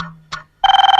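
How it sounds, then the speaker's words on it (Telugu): A mobile phone ringtone starts abruptly after a short spoken sound, a bright electronic tone pulsing rapidly and evenly at close range. "ఫోన్ మా ఇంటి నుంచి అనుకుంటా"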